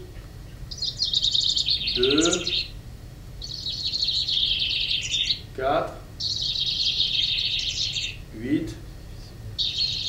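Recorded songs of several different bird species play back in a listening experiment: bright chirping phrases and repeated trills come in bursts, while a nearby voice counts aloud.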